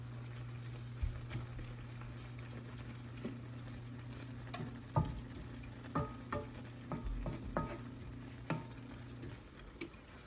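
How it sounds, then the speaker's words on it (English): Rice water in a pot bubbles and pops softly as it comes to a boil, with scattered clicks and scrapes of stirring over a low steady hum; no one speaks. "You can see where it's bubbling, but if I stir it out of the way, it stops."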